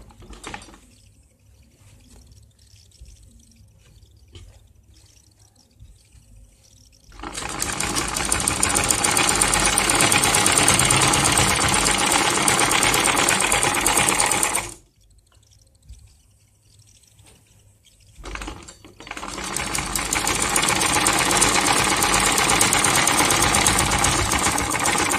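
A sewing machine stitching a handbag made from old jeans runs in two long steady bursts, loud and continuous, with a brief pause and quiet handling between them.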